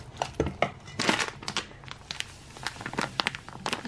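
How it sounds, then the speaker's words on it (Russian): A spoon thoroughly mashing a cottage cheese and semolina mixture in a bowl for syrniki, giving soft irregular squishing and scraping strokes, close and fairly quiet. "Тщательно прям вот так вот перетираю ложкой."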